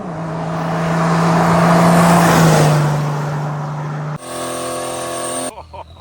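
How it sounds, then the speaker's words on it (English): A turbo diesel Mercedes OM603 engine swapped into an R107 380 SL revs loudly up and back down close by, then the sound cuts to a steadier tonal drone with a brief sharper tail. "This is a beautiful R107 380 SL that we swapped in a turbo diesel Om603 Mercedes engine"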